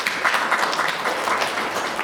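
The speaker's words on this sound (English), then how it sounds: "A round of applause once more." Audience applause at a local government conference in KZN, a dense steady wash of many hands clapping for about two seconds with no talking over it.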